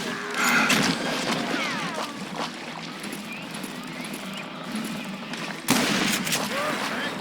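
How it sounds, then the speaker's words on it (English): A fusillade of gunfire in the Western shooter Call of Juarez: Gunslinger rattles on through a busy game scene, scattered shots and ricochets under a constant din, with a louder burst near the end. "a fusillade of bullets come raining down from on high"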